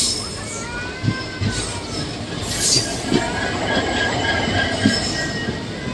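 A passenger train on the Narasapur–Vijayawada route rolls along a loop line past parked goods-train engines, including a diesel locomotive. Loud, sharp wheel squeals ring out over a continuous rail rumble, with short clunks from the wheels.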